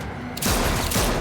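Rapid video game gunfire bursts in dense, continuous volleys, loud and close, with a quieter lead-in before the shooting intensifies.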